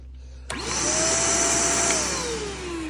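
A Shark vacuum cleaner switches on abruptly and runs up to a loud, steady whine with a rising motor tone, close by and alone; its suction is partly clogged.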